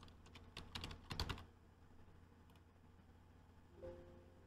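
A password is typed on a computer keyboard as a quick run of close, crisp key clicks lasting about a second, followed by faint room hum.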